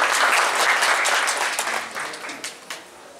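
Audience applause for a keynote speaker at an academic conference, a loud, dense burst of many hands clapping that gradually thins and fades toward the end, with a few last claps.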